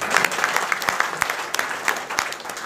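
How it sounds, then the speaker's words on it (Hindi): Dense audience applause fills a spiritual talk hall for a meditation session, a steady crowd of hands clapping with sharper individual claps standing out, sustained throughout at moderate loudness. "ताली बजाइए इनके लिए प्लीज।"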